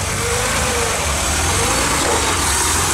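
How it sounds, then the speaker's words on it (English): A car engine idles steadily, a continuous low rumble with broadband noise running the whole time, fairly loud and close. "It's running, you can hear it running."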